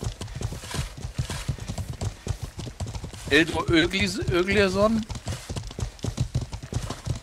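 Horse hooves clip-clop in a steady rhythm in the medieval game Life is Feudal, with a horse whinnying partway through and players talking over it.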